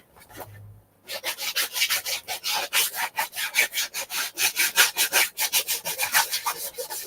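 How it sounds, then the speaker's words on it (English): Wood is sanded by hand in quick, rhythmic back-and-forth rasping strokes, close and steady, after a brief quieter moment at the start. "it's going to take a lot of hours to get this thing sanded"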